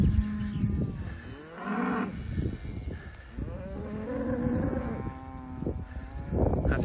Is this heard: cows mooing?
yes